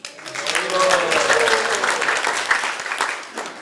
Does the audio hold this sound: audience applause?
yes